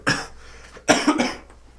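Two loud, harsh coughs close by, one right after the other with a brief pause between them.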